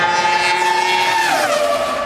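A 2003 Williams V10 Formula 1 car screams down the track, its high, whining engine note holding steady and then dropping in pitch as it passes and pulls away, with no voices.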